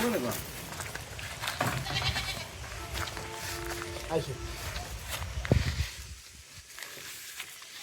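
Goats of foreign breeds on a farm, several bleats rising intermittently near and at middle distance amid people talking and footsteps, growing quieter toward the end.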